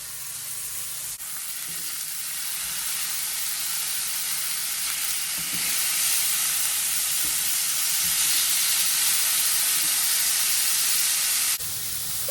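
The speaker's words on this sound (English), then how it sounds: "I'm gonna go ahead and sear it in the pan on all sides, cook for about one minute aside." Seasoned beef steaks searing in a hot pan on all sides, a loud, dense sizzle that swells after a quiet start and holds steady before cutting off near the end.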